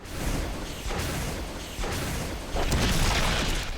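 Explosions from the final chapter of a survival horror video game come as a few heavy, rumbling booms in quick succession, each swelling into a dense, noisy blast that fills the moment.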